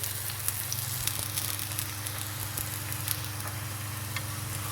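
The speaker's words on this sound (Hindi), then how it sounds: "अब ऑयल डालेंगे थोड़ा सा और इसको अच्छी तरह पकाएंगे जैसे आप पराठा पकाते हैं।" A corn flour roti fries in oil on a pan over low heat, giving a steady, even sizzle with faint pops, heard close and alone.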